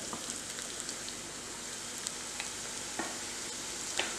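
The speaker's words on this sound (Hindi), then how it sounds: "गोल्डन ब्राउन होने तक हम इसको फ्राई करेंगे।" Paneer potli fry gently in refined oil over a low-medium flame, giving a soft, faint bubbling sizzle with scattered small pops and crackles, and no voices.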